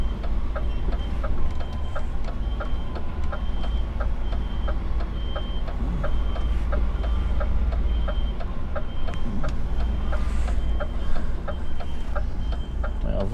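An HGV truck reverses with an evenly spaced reversing beep repeating throughout over a loud, steady diesel engine rumble, heard from inside the cab.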